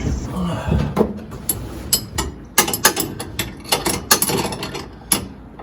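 A wrench working a 14 mm bolt on the brake booster of a 1965 Chevrolet C10 pickup, heard as a series of close, irregular metallic clicks and ratcheting taps with clanks between them.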